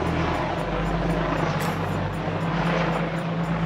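A police helicopter hovers overhead at a busy car meet, its steady rotor and engine drone filling the air continuously at moderate distance.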